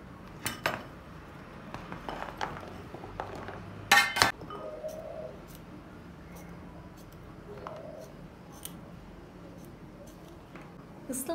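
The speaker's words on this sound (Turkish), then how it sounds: "Şimdi kornişonlarının uçlarını temizliyorum." Sharp knife clicks and clinks against a board as gherkin ends are trimmed while preparing mixed pickles, with scattered taps and one louder clatter in a quiet kitchen.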